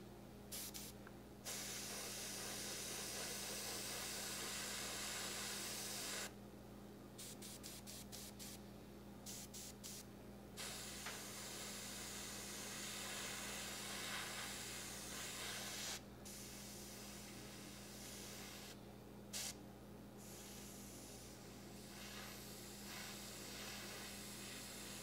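Long continuous hissing bursts of an airbrush spraying grayish brown enamel paint onto a P-38L Lightning scale model, near and steady with a few short pauses, no talking.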